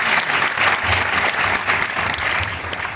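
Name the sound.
audience applause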